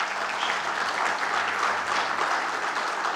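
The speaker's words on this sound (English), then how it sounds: "Big round of applause for them" An audience claps for panel moderators at an OEM leaders' industry event, a steady, dense round of applause filling the room from start to finish without a break.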